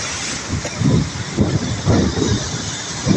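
Gusty storm wind buffets the microphone in low, rumbling surges, loud and close, with no voices.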